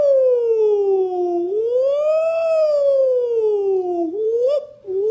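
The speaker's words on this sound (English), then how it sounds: "Oh, do the sirens." A police-style siren sound effect wails in long, smooth rising and falling sweeps for about five seconds, loud and alone, then cuts into a short choppy warble at the end.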